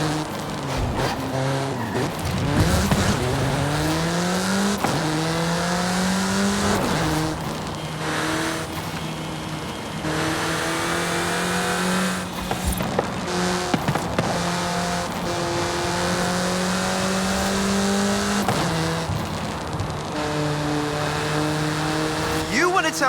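A car in Forza Horizon 5 revs and accelerates through gear shifts, its engine note rising and dropping repeatedly, with brief tire squeals, while a voice talks over parts of it.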